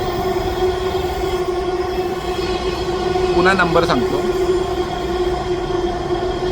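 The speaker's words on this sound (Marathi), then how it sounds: "मेट्रो आल्यामुळे थोडासा आवाज हे होत आहे." A metro train runs nearby, its steady droning hum with a brief rising whine midway, heard under continuous talk by a man.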